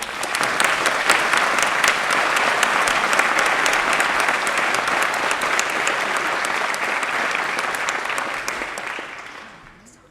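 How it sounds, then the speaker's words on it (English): A crowd at a Green Party manifesto launch in Wakefield claps in sustained, loud, even applause for the organisers and stewards, holding steady for several seconds before tapering off at the end. "Give them a huge round of applause."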